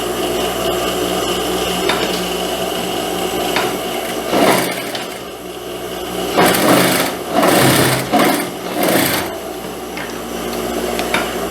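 Sewing machine stitching the seam joining two pressed pieces of a wrap blouse, a steady mechanical whir running throughout with several louder, faster bursts of stitching near the middle.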